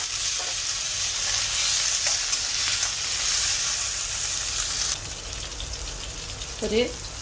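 Onion, tomato and chopped ginger sautéing in a pan for a Kerala-style crab roast, a steady close sizzle with occasional stirring scrapes, no talking.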